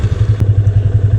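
A motorcycle engine runs with a rapid, even low thumping pulse, loud and close, with a single sharp click partway through and no voices.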